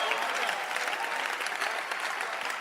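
A church congregation in Mampong, Ghana claps in a dense, steady burst of applause that fills the room, with a few faint voices mixed into the crowd noise.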